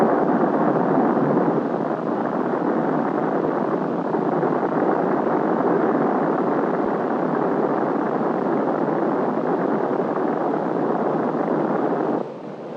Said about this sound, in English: The first static firing of the descent engine took place in the spring of